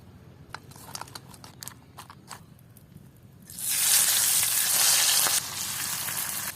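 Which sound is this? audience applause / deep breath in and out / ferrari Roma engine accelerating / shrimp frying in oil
shrimp frying in oil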